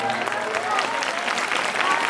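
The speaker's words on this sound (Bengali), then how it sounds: "আমার বাবা মাকে হাততালি দিল।" Audience applause for a performer's parents at Balapur High School's golden jubilee celebration, a dense, steady wash of clapping from a crowd filling the whole moment with a murmur of voices underneath.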